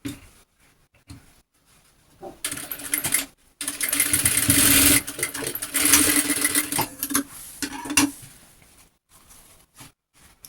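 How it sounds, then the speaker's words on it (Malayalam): A sewing machine stitches a silk pattu pavada top, its steady whirring run loud and close for several seconds, starting and stopping in short bursts with quieter pauses between. "അപ്പോൾ നമുക്ക് ആദ്യം തന്നെ ഇതിൻ്റെ മീതെ വെച്ചിട്ട് നമുക്കൊന്ന് സ്റ്റിച്ച് ചെയ്തെടുക്കാം."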